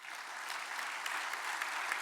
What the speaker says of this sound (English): So a big applause for them.